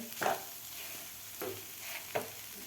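Egg bhurji stirred in a pan: three scraping spoon strokes against the metal over a soft, low sizzle, close and fairly quiet, with no voices.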